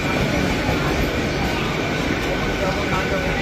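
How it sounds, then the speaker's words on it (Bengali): An AC local train on the Krishnanagar to Sealdah line pulls out of a station, giving a loud, continuous rumbling roar that fills the whole stretch without a break. "এই আমাদের চলে গেল এসি লোকাল।"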